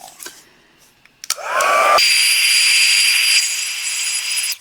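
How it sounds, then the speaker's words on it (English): A heat tool drying stamped ink on a craft project, clicking on with a rising whine, then blowing a loud steady hot-air roar up close for about two and a half seconds before cutting off. "I'm going to go ahead and heat set that real quick"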